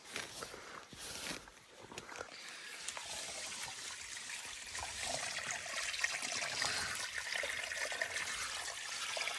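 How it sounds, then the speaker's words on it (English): Steady rushing and trickling water flows continuously through a culvert on Idaho public land, a hollow, broad wash of sound that grows slightly louder, with faint footsteps or rustling near the start. "We hear water. There's a culvert in there."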